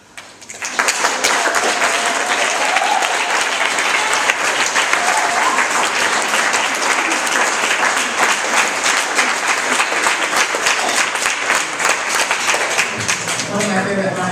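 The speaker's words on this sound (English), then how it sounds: "We'll keep that round of applause going" Audience applause for a poetry performer at a high school talent show, a loud, sustained burst of many hands clapping that starts abruptly and rolls on steadily before tapering slightly at the end.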